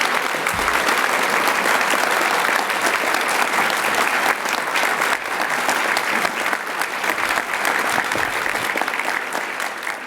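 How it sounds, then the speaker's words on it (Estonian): An audience at a school ceremony breaks into sustained, dense applause, with many hands clapping steadily and loudly for the whole stretch before the sound eases slightly at the end. "palun aplaus neile veel kord"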